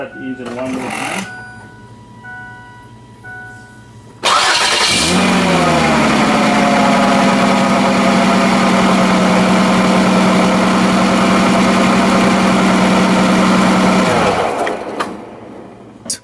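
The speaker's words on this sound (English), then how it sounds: "I'm gonna start the engine one more time." A Ford Freestyle, under diagnosis for an oxygen sensor heater circuit fault, cranks and fires up abruptly after a quiet stretch, then idles steadily and loudly for about ten seconds before shutting off.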